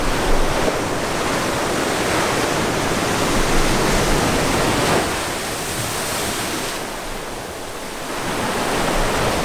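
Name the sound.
ocean waves rushing up the shore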